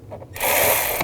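An 8mm socket wrench works a cover bolt loose on a 2003-06 GMC Yukon during a serpentine belt tensioner and pulley job, a brief close ratcheting whir lasting well under a second after a few faint clicks.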